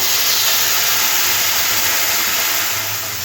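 Tomato paste frying in hot oil with turmeric and Kashmiri chilli powder for a fish curry, a steady close hiss of sizzling that holds evenly throughout with no voices.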